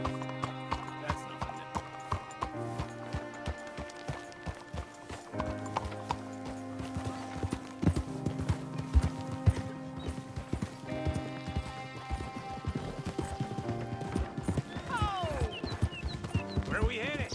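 A horse clip-clops steadily at a walking pace while being ridden in Red Dead Redemption 2, the hoofbeats mixed with game music and voices of people talking.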